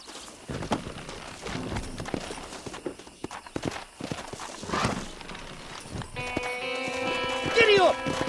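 Horse hooves clip-clop at an easy riding pace in the Red Dead Redemption video game, with a horse whinnying near the end and voices talking over the hoofbeats.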